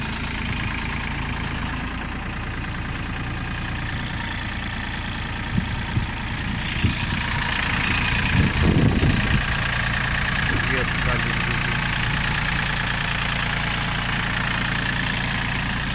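An Iseki TF21F Japanese mini tractor engine runs at third speed with a low, steady diesel drone. The drone grows slightly louder partway through, with a few knocks and clatters, while someone speaks over it.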